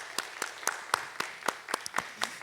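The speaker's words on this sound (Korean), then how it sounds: "우리 박수로 격려하도록 하겠습니다" A church congregation claps in applause to encourage students before their exam, a run of distinct, fairly close claps at a steady pace with no talk over it.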